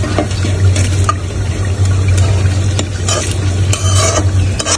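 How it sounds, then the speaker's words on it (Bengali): Meat being mixed with spices and yogurt in a pot: continuous loud stirring and scraping over a low steady hum, with wet sizzling bursts recurring every second or so. "মশলার সাথে গোস্ত মিক্স করা হয়েছে।"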